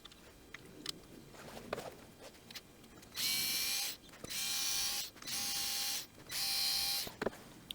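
A power tool fitted with a T8 socket drives fasteners on a Honda GX35 lawn edger during a primer bulb replacement, heard as four short whirring bursts close by, with faint handling clicks between them.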